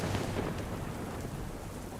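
Heavy monsoon rain pours down in Palanpur with a low rumble of thunder, a dense, steady hiss of downpour close by, no voices.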